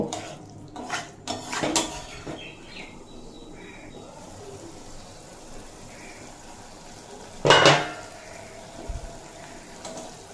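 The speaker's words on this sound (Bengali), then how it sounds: "এরপর এড করে দেব ভেজে রাখা আলু আর ঝিঙে দিয়ে আবারও কিছুক্ষণ কষিয়ে নেব" Fried potatoes and ridge gourd are being sautéed with spices in a pan, heard as a few sharp utensil scrapes and clinks over a soft kitchen background, with one louder clatter near the end.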